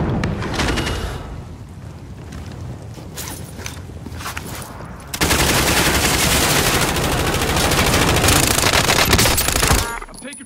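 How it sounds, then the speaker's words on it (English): Gunfire in a PUBG-style shooter game, sporadic shots early giving way to a loud sustained burst of rapid automatic fire for several seconds before stopping abruptly. "I'm taking fire here."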